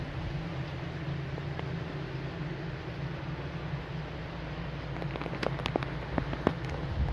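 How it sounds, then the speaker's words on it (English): Rain falls outside on a farm during wheat harvest, a faint steady patter with a low hum beneath and a few sharper drops near the end. "it's absolutely raining outside"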